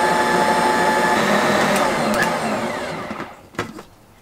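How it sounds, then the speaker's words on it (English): An electric mixer whirs steadily through cream cheese batter for a chocolate truffle blackberry cheesecake, a loud continuous motor drone that cuts off near the end, followed by a few clattering knocks. "Now we're going to mix this until it's smooth."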